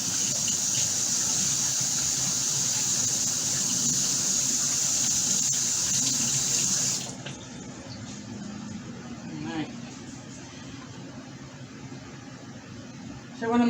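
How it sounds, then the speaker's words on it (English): Tap water runs steadily into a sink during a quick hand wash, a close, loud gushing hiss for about seven seconds that then cuts off, leaving quieter background and faint handling noise. "Wash my hands real quick."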